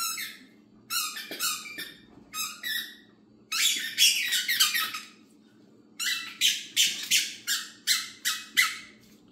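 A dog squeezes a squeaky toy during ball play, producing loud, close squeaks in quick rhythmic bursts, several pulses per burst, with short pauses between and no voices.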